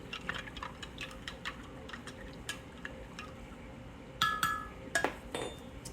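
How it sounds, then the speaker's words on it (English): Someone stirs a mixture of white vinegar and brine in a bowl for bread and butter pickles, producing quiet ticking scrapes and a few sharper clinks against the bowl. "Give it another stir."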